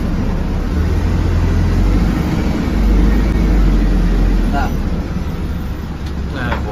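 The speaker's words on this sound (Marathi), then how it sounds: "ट्रक जोरात गेलाय" A truck speeds past on a busy highway near the Maharashtra border, a loud, steady low rumble and roar that swells around the middle and stays close throughout, with nothing else standing out above it.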